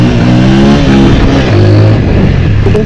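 A TVS Apache RTR 204V motorcycle engine revs loudly and continuously up close, its deep exhaust note rising and falling through several throttle blips.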